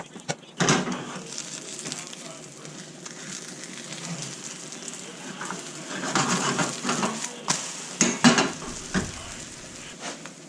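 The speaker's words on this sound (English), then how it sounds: "Just gonna mix one egg up." One egg is whisked in a bowl while butter sizzles in a pan, a steady scraping and stirring texture under continuous frying hiss, with a few sharper clinks toward the end.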